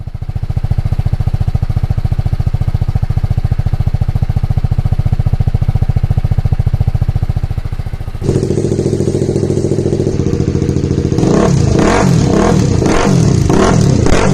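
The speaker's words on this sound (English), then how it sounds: "Now I'll be sharing the different exhaust notes of the stock, the aftermarket exhaust and the custom made exhaust too." TVS Apache RR310 motorcycle exhaust at idle, a steady loud rumbling pulse, which then shifts to a different-sounding exhaust setup with rhythmic throttle blips revving up and down, close and alone without talk.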